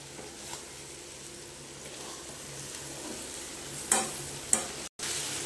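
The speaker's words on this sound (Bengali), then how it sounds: "এবারে দিয়ে দেবো এই যে ভেজে রাখা কপিগুলো, এই দিয়ে খানিকটা কষে নেব" Fried cauliflower florets tossed with spices in a pan make a soft, steady sizzle with a few sharp scraping clinks of a spatula near the end, close and fairly quiet, with no voices.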